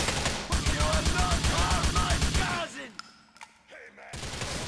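Rapid automatic gunfire from the video game GTA IV, loud bursts of shots in quick rhythm for over two seconds, then a pause with a couple of isolated shots before the firing resumes.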